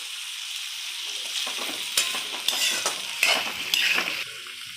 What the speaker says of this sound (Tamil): இஞ்சி வதக்கின்னே இருக்கட்டும்.